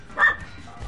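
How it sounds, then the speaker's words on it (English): Jeff, a pet dog, lets out one short, sharp bark over a quiet background hum while people play a video game nearby. "Jeff is barking at gang beasts."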